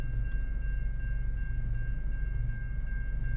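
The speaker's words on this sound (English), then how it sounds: "I got stuck in front of a train that stopped moving." A steady low rumble from a stopped train at a crossing, with a constant high tone held throughout. The sound is continuous and moderately loud, with no talking.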